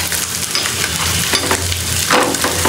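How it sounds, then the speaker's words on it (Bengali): Rotis fry one at a time in a hot pan beside reheating liver curry, giving a loud, close, steady sizzle with bursts of stirring and scraping throughout and no speech. "এইভাবে করে আমি সবগুলো রুটি একটা একটা করে ভেজে নেবো"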